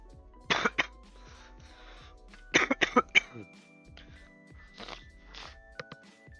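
Several short, harsh coughs come in bursts close to the mic, with quieter pauses and faint background noise between them.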